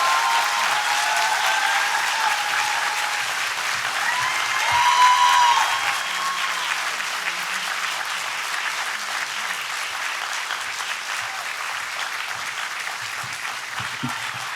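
An audience applauds to welcome a speaker to the podium at an evening lecture, sustained clapping from a full room that swells briefly and then holds steady.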